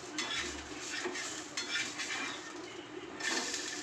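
Rava appam being turned over in a pan during cooking, with clinks and scrapes of a metal spatula against the pan over a soft sizzle, bursts of scraping at the start and near the end.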